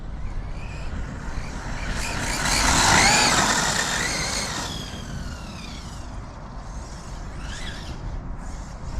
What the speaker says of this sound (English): Get to about half throttle and then it just starts cogging and cutting out.